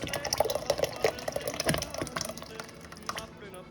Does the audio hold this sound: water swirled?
yes